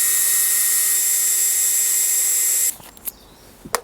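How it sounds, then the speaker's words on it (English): A power drill bores quick pilot holes into a wooden board for a portable sawhorse, a steady high whine running close and loud for over two seconds before cutting off, followed by a few light knocks. "I'm just going to drill 2 quick pilot holes."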